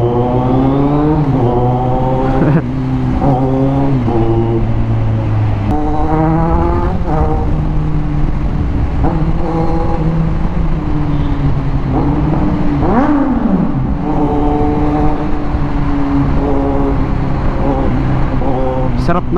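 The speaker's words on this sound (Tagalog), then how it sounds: "Sarap na exhaust natin ngayon. Mas gumanda yung tunog niya." A Kawasaki Z900 motorcycle with an aftermarket exhaust idles and revs at a night owners' assembly, its engine note rising and falling in repeated blips, loud and close, with people talking nearby.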